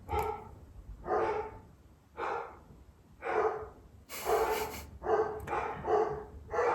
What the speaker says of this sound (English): so my dogs are freaking out